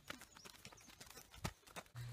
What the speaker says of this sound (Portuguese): olha o Thales andando a cavalo